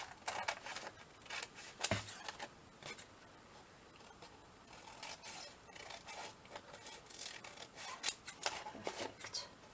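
Scissors cutting paper along a drawn line, a series of quiet, crisp snips and rustles spread irregularly across the stretch, heard close without talk.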